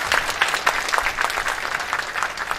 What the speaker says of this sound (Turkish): şimdi Batı Yakası Medya Grubu imtiyaz sahibi Sayın Bülent Kömürcü'yü selamlama konuşmasını yapmak üzere alkışlarınızla sahneye davet ediyorum hocam